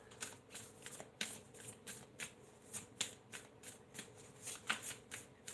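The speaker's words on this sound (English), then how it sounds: "Okay, I've done a shuffle." Tarot cards are shuffled by hand in a quiet room, a run of crisp riffling bursts and soft slaps repeating in a steady rhythm, close and fairly faint.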